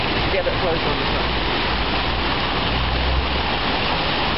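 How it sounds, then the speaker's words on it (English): Constant rushing, splashing water roar fills the scene from a nearby waterfall at Meadowhall shopping centre in Sheffield, with faint talking underneath. "waterfall down there"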